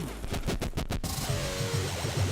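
A waste-destroying plasma torch fires up at 10,000 degrees C, starting with a quick series of sharp cracking bursts and then settling into a steady roaring hiss.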